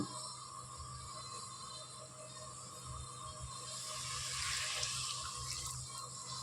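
Water runs steadily into a pan of black nightshade greens, a soft continuous splashing stream close by, swelling slightly toward the end.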